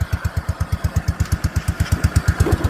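An old tractor engine running at full power to drive a mower cutter deck, a loud close chugging with rapid even pulses that stay steady throughout, no voices over it.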